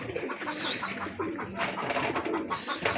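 Pigeons coo in short, overlapping throaty calls close by, with some rustling and background noise.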